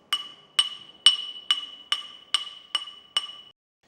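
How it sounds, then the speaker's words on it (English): The edge of a ball peen hammer strikes a handmade metal ring seven times in an even rhythm, each bright ringing tap close by and decaying quickly, with no talk. "The next style creates more of a striped pattern, and we're going to be using the edge of our hammer here."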